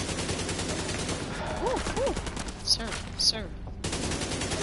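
Rapid bursts of gunfire from the video game The Division, dense and sustained under a steady game soundscape, with a few sharper reports near the end and someone speaking briefly over it.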